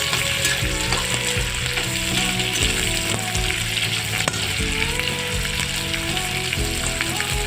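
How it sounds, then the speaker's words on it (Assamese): Garlic and green chilies fry in a pan for a Bengali-style common kart fish curry, a steady loud sizzle with occasional stirring scrapes running throughout, no talking. "সেইখিনি অলপ ফ্ৰাই কৰি ল'ম"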